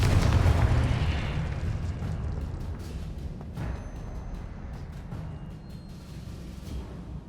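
A Confringo fire spell explodes in Hogwarts Legacy with a loud booming blast right at the start, then a long rumbling tail sprinkled with crackles that slowly fades. No voices are heard.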